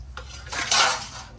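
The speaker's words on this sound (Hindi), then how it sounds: "मैं अकेले बर्तन धो देती हूँ।" Short clatter of steel utensils, pots and pans being washed in a home kitchen, a few sharp metallic clinks and scrapes over running water, close and fairly loud with no talk.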